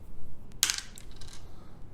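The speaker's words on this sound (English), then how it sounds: "this one is going to roll its 7 dice" Dice tumble onto a tabletop during a Reign in Hell wargame turn, making a short, sharp rattle and clatter that quickly settles against a quiet room.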